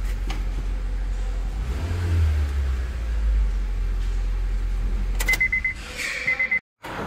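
Used replacement car engine running steadily with a deep low rumble, swelling into a rev early on, then idling on with a brief beep-like tone near the end and a sudden cutoff.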